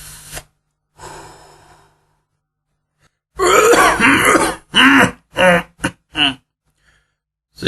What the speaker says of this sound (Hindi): सिगरेट पीते ही साथ वो खांस उठा